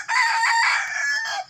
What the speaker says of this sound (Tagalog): ito patali yung mga manok